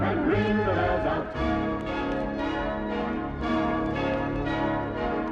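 Church bells ring out in a bright, layered peal with repeated strikes, accompanied by music in a Wizard of Oz scene.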